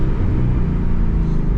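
A car engine under a hard acceleration pull, heard from inside the cabin as a loud, dense, steady rumble and roar with no pauses.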